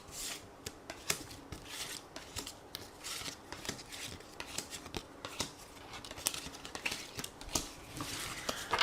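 Tarot cards being shuffled and drawn, a close, quiet run of quick riffling flicks and soft slaps in an irregular rhythm, with no talk.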